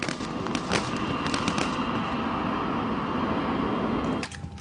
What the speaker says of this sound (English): A GIGN man is blasted out of the plane by gunshots.